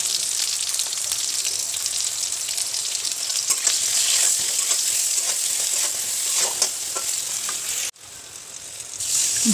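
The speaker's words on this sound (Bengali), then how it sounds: "ভালো করে বেগুনটা ভেজে নিয়েছি" Eggplant frying in oil in a pan, a dense continuous hiss and crackle like heavy rain, close and loud, with a few stirring scrapes and a brief cut near the end.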